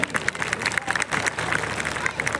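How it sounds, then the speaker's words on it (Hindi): Audience at a Holi kavi sammelan poetry gathering claps for the police, a short burst of uneven, fairly close applause with crowd murmur mixed in. "एक बार डिप्टी एसपी साहब और इस नगर की पुलिस के लिए और पूरे भारत की पुलिस के लिए तालियां बजाइए।"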